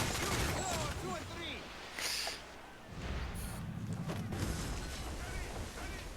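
Ship cannons boom in a Caribbean naval battle in Assassin's Creed: Freedom Cry, heavy low blasts and rumbling bursts repeating over several seconds amid a dense, loud battle din, with voices heard under the gunfire.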